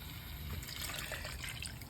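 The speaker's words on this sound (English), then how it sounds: "I'm gonna add some of my stock water" Stock water pouring into a pot of washed rice for party jollof, a quiet, continuous splashing trickle of liquid heard close up, with no speech.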